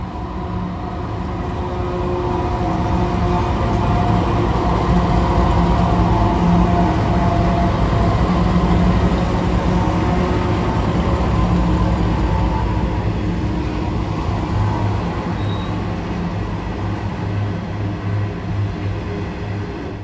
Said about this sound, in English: Those were 3 of the first batch of 10 XRN class locos.